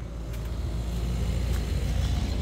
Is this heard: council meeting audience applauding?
no